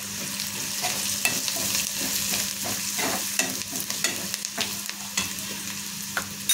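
Onions frying in a pan with turmeric and masala, a steady sizzle under repeated stirring strokes that scrape and tap the pan at an irregular rhythm, close and fairly loud, with no talk.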